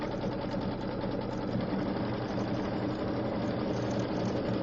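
Embroidery sewing machine stitching an outline, a loud, close, steady rapid rattle of needle strokes running without pause.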